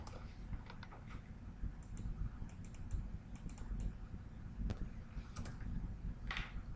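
Computer keyboard being typed on, soft irregular key clicks in short bursts with brief pauses, fairly quiet and close, no voices.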